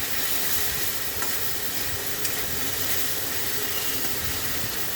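Spice paste of ground onion, green chili and red chili powder fries in a pan with a loud, continuous, even hiss and sizzle that fills the whole stretch without letting up.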